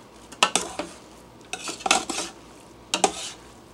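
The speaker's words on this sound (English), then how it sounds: "so let's give her a stir" Utensil stirring freeze-dried spicy chicken curry: three clusters of scraping, clinking strokes against the container, close and fairly loud, with short pauses between them and no talking.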